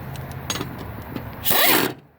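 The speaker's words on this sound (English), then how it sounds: "just do the reverse with the impact wrench once it's hand tightened" An impact wrench tightens a bolt on a lawn mower during routine maintenance, giving a short, loud burst of rattling hammering near the end after quieter clicking and handling noises.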